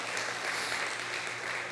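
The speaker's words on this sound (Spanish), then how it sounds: "quiero que le dé un aplauso al Señor por su vida," Church congregation applauding together during a Spanish-language sermon, a steady, dense wash of clapping that holds evenly through the moment with no talk over it.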